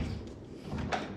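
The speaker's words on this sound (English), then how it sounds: "it doesn't even stay closed because the latch is meant to slide off from this direction" A backwards-installed door is pushed shut, its latch failing to catch, giving a soft muffled thud and brief rattle at close range amid low room noise.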